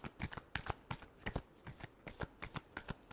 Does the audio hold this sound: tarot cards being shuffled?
yes